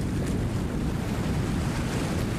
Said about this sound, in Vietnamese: hôm nay sóng gió cũng tương đối êm đó.